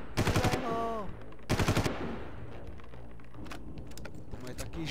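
Rapid bursts of automatic gunfire in the video game Far Cry 2, two short loud volleys followed by scattered fainter shots, while a player talks in Czech underneath.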